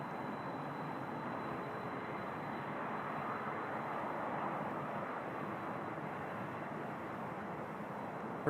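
A Qatar Airways jet takes off at Toronto Pearson airport, heard as a faint, steady, broadband engine roar at a distance that holds evenly throughout.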